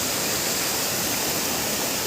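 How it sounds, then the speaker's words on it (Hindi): A mountain waterfall plunging into a gorge on a monsoon-season trek to Madhyamaheshwar roars as a loud, steady, broadband rush with no voices over it. "ये सुंदर सा झरना"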